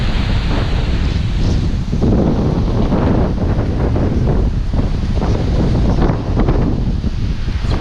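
Strong wind buffets the microphone in continuous gusty rumbles on a beach, with surf washing in the background and no talking.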